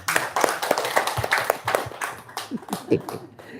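An audience claps in quick, uneven bursts close by, the rapid hand claps mixed with voices talking and laughing over them.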